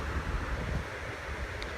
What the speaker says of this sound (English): I'm surprised Karma's not running after the waves